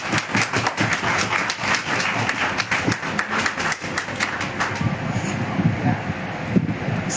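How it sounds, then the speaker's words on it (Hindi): Audience clapping at an award function in Chhindwara, a rhythmic burst of applause heard through heavy wind noise on the microphone, fading toward the end. "तालियां।"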